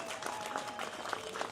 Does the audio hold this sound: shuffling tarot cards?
no